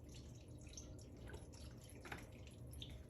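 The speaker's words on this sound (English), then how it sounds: "I'm going to go ahead and pour this whole thing in" Beef broth poured from a box into a soup pot for hamburger soup, a soft steady liquid splashing with small drips, quiet and close.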